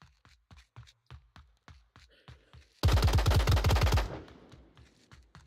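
A rapid burst of automatic gunfire from a video game, loud and close for about a second, set against a steady string of separate single shots before and after.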